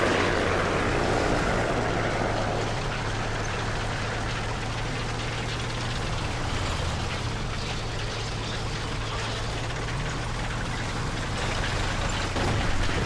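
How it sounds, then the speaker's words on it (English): Aircraft drone overhead in the War Thunder video game, a loud, continuous broadband engine roar with a steady low hum that stays constant for over ten seconds, no talking. "So many planes."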